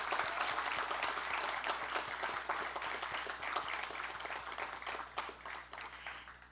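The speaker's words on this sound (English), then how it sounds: "Let's have a round of applause for all the countries represented here." An audience applauds steadily at a naturalization ceremony held for World Refugee Day at the New York Historical Society, a sustained wash of many hands clapping that thins slightly toward the end.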